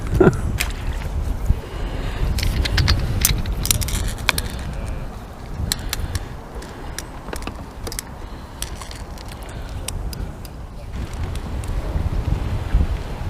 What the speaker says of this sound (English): this wind's come out of nowhere. It wasn't supposed to be this strong